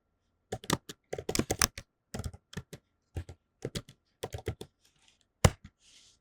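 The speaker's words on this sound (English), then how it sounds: "So I will just open my terminal and type the command." Keys clatter on a computer keyboard in close, quick bursts of typing separated by short pauses, as a terminal command to install n8n is entered.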